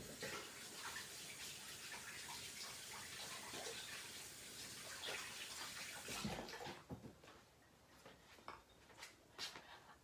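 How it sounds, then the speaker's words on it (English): Tap water runs steadily into a kitchen sink during hand washing, a broad continuous rush that cuts off partway through, leaving quieter clinks and small handling sounds afterward. "Wash my hands."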